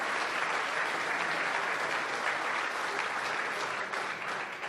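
A large union crowd in Windsor breaks into sustained, loud applause, a dense steady clapping that fills the whole stretch without pause.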